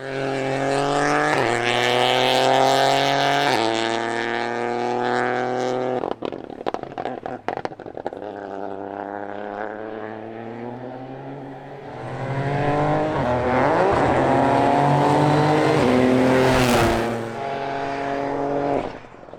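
A Rally3 rally car powers through the Knockalla hairpin at the Donegal International Rally, its engine revving hard with sharp gear changes, a brief lift as it brakes, then a loud rising howl as it accelerates away, close by.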